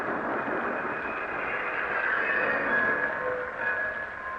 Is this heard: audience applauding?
no